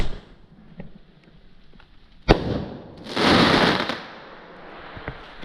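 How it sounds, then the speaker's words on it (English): Standard Fireworks 16 gram wind shot tube firing at a Bonfire Night display: one sharp loud bang, then a roaring hiss-burst about a second later that fades into faint crackle and distant pops. "we're going to do one of these wind shot tubes, which are 16 gram and incredibly loud by Standard Fireworks"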